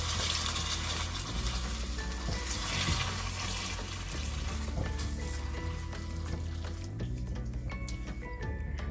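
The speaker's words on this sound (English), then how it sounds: "So now I'm going to add in water and make gravy out of it." Water poured into a pan of cooking raw jackfruit curry sets off loud, steady sizzling and bubbling with faint clinks of stirring throughout.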